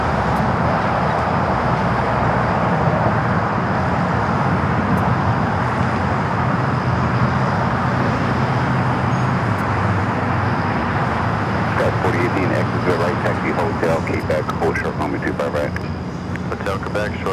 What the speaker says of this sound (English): American Airlines Flight 1292 heading to Nashville, a 737 MAX 8 up next for takeoff here on the south side